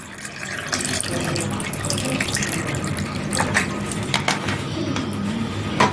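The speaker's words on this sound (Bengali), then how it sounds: "এখন আমি ঠান্ডা জল দিয়ে দেব" Cold water running from a tap onto peeled mangoes in a bowl, a steady close splashing stream lasting throughout with small drips and clinks, no voices.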